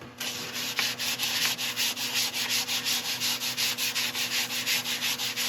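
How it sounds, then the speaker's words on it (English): Abrasive paste being worked by hand over a wood-turned piece, a steady rhythmic rubbing and sanding with regular back-and-forth strokes, close and continuous with no talking. "I'm just going to cut it back with abrasive paste again."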